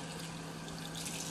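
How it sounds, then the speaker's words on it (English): Warm water pouring into a measuring cup holding a small brick of chicken bouillon, a steady close trickling splash lasting the whole moment with no talking. "just put that in a measuring cup with a couple of teaspoons of water"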